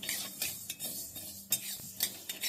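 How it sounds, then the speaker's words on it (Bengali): Mustard seeds fry gently over low heat in a wok as a utensil stirs and scrapes, giving quiet, intermittent clinks and scrapes over a faint sizzle. "হালকা আঁচে সর্ষেটা ভাজবো"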